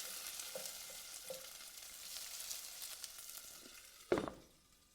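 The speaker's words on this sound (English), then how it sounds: "On a low flame, sort of low to medium, I let the onions just slightly brown for 2-3 minutes" Onions frying in a pan on a low-to-medium flame, a faint soft sizzle with a few light stirring taps, ending in one sharper clatter near the close.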